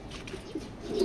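A pigeon in a loft gives a short soft coo, a low rising burble near the end of a faint, brief moment with quiet room noise.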